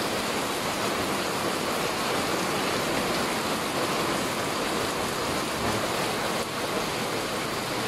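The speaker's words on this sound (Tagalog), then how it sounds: "So sobrang lakas ng ulan mga bro." Very heavy rain pours down as a dense, steady roar of hiss that stays loud and unbroken, with no pauses or other sounds standing out.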